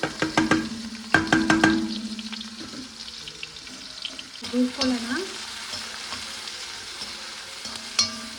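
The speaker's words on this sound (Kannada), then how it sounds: "ಈಗ ಈರುಳ್ಳಿ ಚೆನ್ನಾಗಿ ಫ್ರೈ ಆಗಿದೆ" Chopped onions fry in oil for kadai paneer, with clanking spoon strokes against the pan early on, then a steady sizzle under occasional scraping stirs and light tapping.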